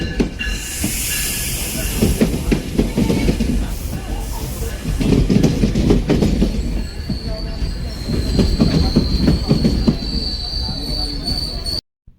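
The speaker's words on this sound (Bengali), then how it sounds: "ইউনিয়ন স্টেশন টরন্টো থেকে নায়াগ্রা ফলস 9:29 AM ট্রেন আসছে প্ল্যাটফর্ম 1-এ।" A train pulls in at a platform at Union Station in Toronto, a loud rumble of wheels and cars with squealing and a steady high tone near the end, and voices murmuring underneath.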